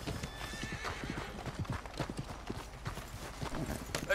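Horse hooves clop steadily at a quick trot in Red Dead Redemption 2, close and clear, over a rumbling outdoor background.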